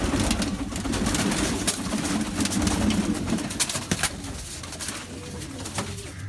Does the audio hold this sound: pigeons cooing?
yes